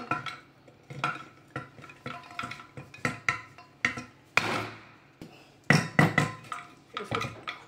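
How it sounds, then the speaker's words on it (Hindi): Sharp hammer blows knock at a vacuum cleaner part to force it open, a series of close irregular metallic knocks with short pauses between them. "ठोक कर ही खोलना है, तो थोड़ी जगह देनी चाहिए थी उनको ठोकने के लिए।"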